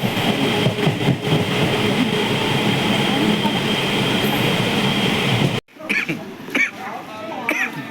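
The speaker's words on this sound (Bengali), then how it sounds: "শিয়ালদা থেকে সবে ট্রেনটা ছেড়েছে।" Local train pulling out of Sealdah station, a loud continuous rumble and rattle of carriages from inside, then a cut to quieter, patchier train noise with a cough and scattered voices.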